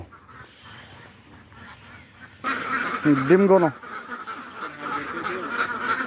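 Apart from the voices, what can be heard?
ducks quacking at a duck farm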